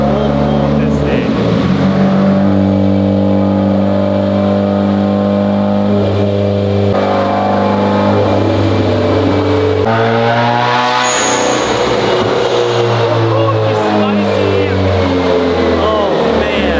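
A Subaru WRX with a fully built IAG engine makes a full-throttle pull on a dyno, a loud, close engine note rising steadily through the revs with gear-like steps, harsh and buzzy, and a brief dip before the climb resumes.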